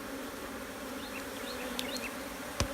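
Honeybee swarm buzzing during transfer into a four-frame swarm trap: a dense, steady drone of many bees close by, with a few brief chirps and a knock near the end, no voices.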